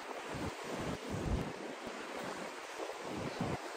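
Sea waves wash in steadily at a seaside spot lined with trees, a continuous surf roar mixed with wind buffeting the microphone, with low rumbling swells rising and falling.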